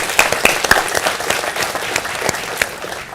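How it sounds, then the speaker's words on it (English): Conference audience applauding after a morning keynote introduction at a Lockheed Martin–hosted solar system exploration event, a steady patter of many hands with sharper individual claps popping out, moderately close and filling the room. "I'd ask everybody to join me in a round of applause for everybody who helped out with it."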